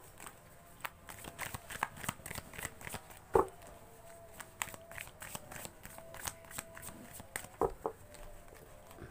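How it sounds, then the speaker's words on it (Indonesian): A deck of tarot cards is shuffled by hand in a quiet room, a steady run of soft riffling and patting with a few sharper card snaps, close and with no speech. "sekarang kita shuffle kartunya sesuai dengan judul tema"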